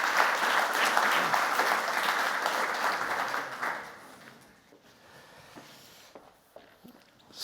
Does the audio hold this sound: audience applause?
yes